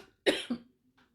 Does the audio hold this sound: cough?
yes